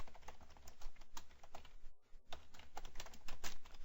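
Code being typed on a computer keyboard: a steady run of close, crisp keystrokes that pause briefly midway, then resume at the same brisk pace, with no voices.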